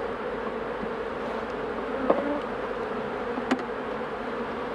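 Honeybee drones, many of them immature males, buzz steadily inside a hive, giving a continuous close insect hum with a couple of brief louder bursts.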